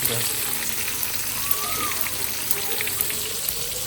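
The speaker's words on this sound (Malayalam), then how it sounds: "മീൻ ഫ്രൈ ചെയ്തുകൊണ്ടിരിക്കുന്നത് അയലയാണ് കേട്ടോ" Mackerel frying in a pan of oil, giving a constant close sizzle with small scattered pops and crackles.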